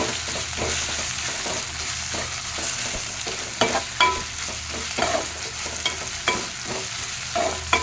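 Food frying in a pan for palak paneer curry, a continuous close sizzle broken by repeated scraping stirs and clinks of a spoon against the pan, with no voices.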